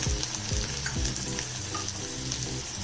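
Chopped onion frying in butter with green chilies, giving a dense, continuous close sizzle with a few soft stirring scrapes near the start.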